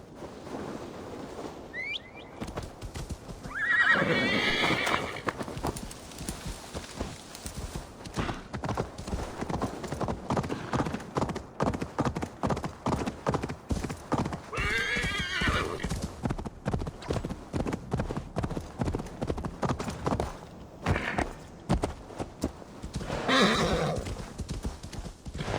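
A horse's hooves pound in a rapid, steady gallop close by in the video game Assassin's Creed Valhalla, broken by several loud neighs and whinnies, with faint birdsong in the background.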